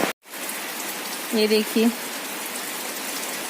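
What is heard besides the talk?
heavy rain falling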